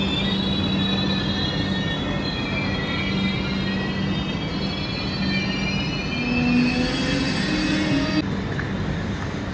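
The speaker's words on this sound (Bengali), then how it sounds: "সো এখন আমি আছি পানভেল রেলওয়ে স্টেশন।" A train at Panvel railway station in Maharashtra at night, with a loud, continuous rumble of rolling wheels and long high-pitched metallic squeals from the wheels, close by and without voices.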